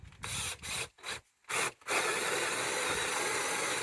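A 1 inch paddle bit bores a hole in wood, heard as a few short close rasping bursts that give way to a steady grinding spin, with no talk.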